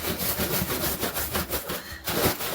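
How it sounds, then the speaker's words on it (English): Rhythmic rubbing and rolling strokes of a thin bag pressed across an epoxy-coated kitchen counter during cheesecake prep, repeated back-and-forth scrapes close up with no talking. "this bag is a little thinner, so I'm not going to get too crazy with the rolling here"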